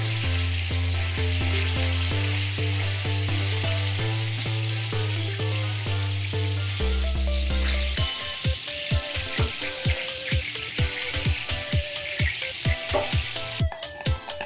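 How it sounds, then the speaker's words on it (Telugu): Paneer frying in a pan until light golden, a steady loud sizzle that runs the whole time with no talk, with regular stirring taps and scrapes joining in over the second half. "Golden colour, light golden colour వచ్చే వరకు ఫ్రై చేసుకోవాలండి."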